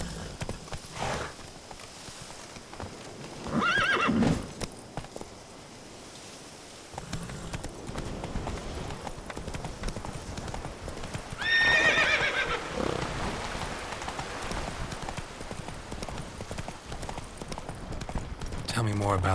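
A horse in The Witcher 3 video game gallops with steady hoof clip-clops and lets out two loud whinnies, heard near and clear while voices talk over much of it.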